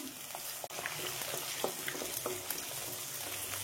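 Onion, garlic and green chilli fry in hot oil for a Tamil tamarind cowpea curry, giving a steady, close crackling sizzle with small pops throughout and no talking.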